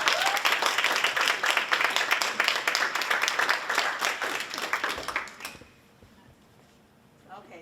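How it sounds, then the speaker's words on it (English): Audience applause at a literacy town hall: dense, steady clapping from a crowd fills the room for about five seconds, then cuts off abruptly into quiet room noise. "Can we give them a big round of applause?"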